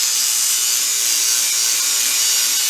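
An angle grinder slices through a wheel rim, a loud, continuous high-pitched grinding hiss that holds steady without a break from start to finish.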